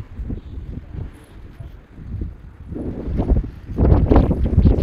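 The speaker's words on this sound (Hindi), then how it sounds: "हवा की आवाज़ सुनो ज़रा आप।" Strong gusty storm wind in Jaisalmer roars and buffets against the microphone in uneven surges, growing louder and harsher toward the end.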